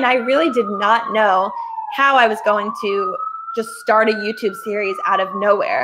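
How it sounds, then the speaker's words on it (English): A wailing emergency siren on a New York City street rises and falls steadily in the background while a person talks continuously over it. "Excuse the siren. I'm in New York City."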